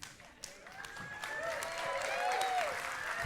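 Applause from an audience at a talk as a wife is invited onstage, clapping that builds from scattered claps into a fuller, moderately loud wash.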